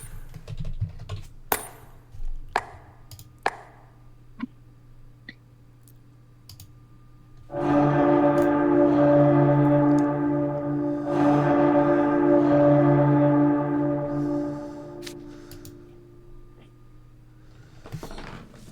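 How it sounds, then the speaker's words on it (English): Nighttime bell ringing in a video game: after quiet clicking, a loud sustained bell-like tone swells, holds with a second strike, then fades out over several seconds. "Alas, the nighttime bell has rung."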